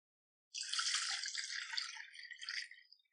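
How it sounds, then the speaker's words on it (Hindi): Pasta water pours and trickles steadily through a colander, a soft hissing patter close by that thins out toward the end. "इसमें से सारा पानी चन्नी से निकल गया है"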